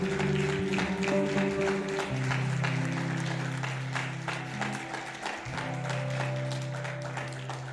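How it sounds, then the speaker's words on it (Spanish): A church congregation breaks into applause and keeps it going through the whole stretch, with dense clapping over a low sustained organ or keyboard tone. "Denle un aplauso al Señor."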